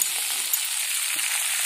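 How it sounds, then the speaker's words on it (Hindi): Karmatta greens dropped onto fried onion and chilli in a hot pan give a loud, steady close-up sizzle with a brief clatter at the start. "अब इसमें हम डालेंगे ये करमत्ता भाजी को।"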